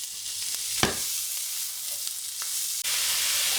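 Prawns sizzling in a red-hot frying pan with a couple of tablespoons of smoking oil, a dense steady crackle close up, with a few sharper pops and stirring scrapes.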